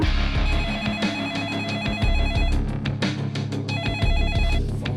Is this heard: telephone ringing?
yes